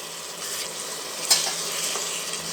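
Yellow turmeric and garam masala powder stirred in a pan while frying for pressure-cooker mutton biryani, with a continuous soft sizzle and a single sharp scrape of the spoon midway, no voices.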